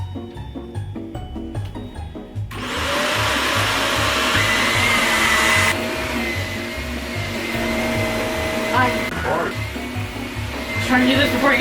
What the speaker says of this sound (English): So I'm gonna try and vacuum my room right now.